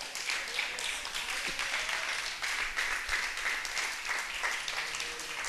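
A church congregation claps in praise to the Lord, a sustained, even wash of many hands at moderate volume with faint voices mixed underneath.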